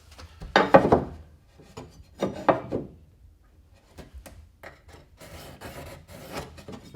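Dry scratching strokes of a marker drawn across drywall along a framing square, a few short rasping passes with pauses, close and fairly quiet, followed by lighter shuffling and scraping.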